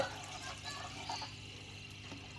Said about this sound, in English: I will fill up the container with the aquarium water